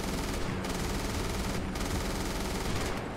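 Dense, continuous machine-gun fire rattles throughout a beach-defence battle in the video game Beach Invasion 1944, loud and unbroken, with a few brief dips in intensity.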